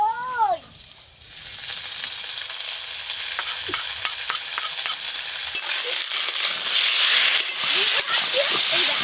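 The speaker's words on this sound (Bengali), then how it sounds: "আমি ভাজা আলুর ওপরে দিয়ে 2-1 নেড়েই জল দেবো" Fried potatoes are stirred with poppy seed paste in a pan, a close, continuous sizzle with scraping stir strokes that grows louder toward the end, a brief cat-like call at the start.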